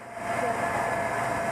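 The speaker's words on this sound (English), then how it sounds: "Sounds way smoother, look at that. Engine smoother." A steady car engine idles smoothly and evenly after a random multiple-cylinder misfire fault was fixed, with a constant low hum and a faint whine, no misses or sputters.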